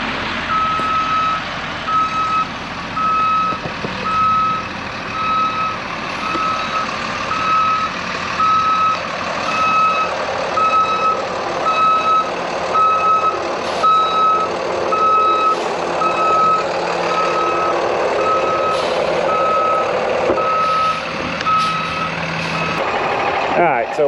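A small garbage-truck chassis backs up on site with a steady, loud reversing alarm beeping in a regular rhythm over a constant engine rumble, running nearly the whole time with some background noise.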